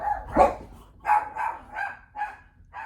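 Pet dogs bark indoors at children playing outside, a loud first bark followed by a string of five or six steady barks, close by and with no talk.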